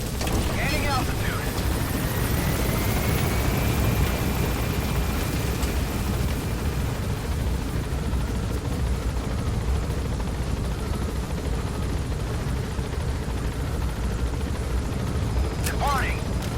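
A helicopter rotor in the Metal Gear Solid V game thumps in a loud, constant, close roar as the aircraft lifts off and gains altitude, with a soft tone sweeping across near the start.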